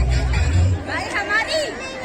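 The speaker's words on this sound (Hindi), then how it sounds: "देखो बहुत ही ज्यादा भीड़ हो रही है" A large crowd chatters at an Uttarakhand cultural festival in Noida, dense overlapping voices forming a loud steady babble with some nearer talk over it.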